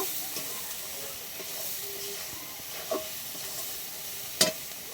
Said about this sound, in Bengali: এবার আমি সবগুলো একসাথে একটুখানি কষে নেব।